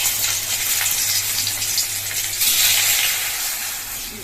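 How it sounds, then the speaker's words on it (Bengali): Broad beans fry in a little oil in a wok with a loud, continuous sizzle and crackle that swells and eases slightly, close up, with no voices. "কড়াইয়ে দিয়ে দিয়েছি তেল, আর এইটুকু তেল দিয়ে অতগুলো ছিম ভাজা"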